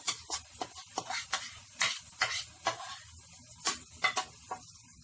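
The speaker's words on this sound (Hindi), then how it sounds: "फ्लेम को हाई पे रख के अब हम गोश्त को अच्छे से 5 से 10 मिनट तक भून लेते हैं।" Marinated mutton tossed into ginger garlic paste fries on high flame in a pot for mutton pulao, with repeated stirring scrapes over a steady sizzle, close and moderately loud, no talk.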